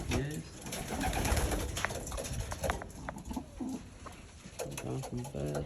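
Pigeons coo repeatedly inside a newly built loft for young birds, their soft, throaty calls overlapping at a moderate distance with a faint background rustle.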